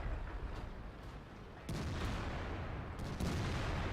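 A tank main gun fires in World of Tanks, with a sharp broadband blast around 1.7 seconds and another near 3.2 seconds over a constant engine rumble. Both shots are moderately loud, each followed by a brief sustained boom.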